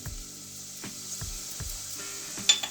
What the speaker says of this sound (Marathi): हा तेलात परतून घ्यायचं छान। चांगलं तेल सुटलं पाहिजे।